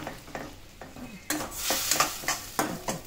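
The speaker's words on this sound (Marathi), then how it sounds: "आता छान हलवून घ्यायचं, म्हणजे मसाला एकदम सगळा संपूर्ण मसाला एकदम मॅश होणार" Masala for a spicy sandgyachi rassa bhaji is stirred and mashed in a pan, giving repeated scraping strokes in a steady rhythm over a soft sizzle, close and moderately loud.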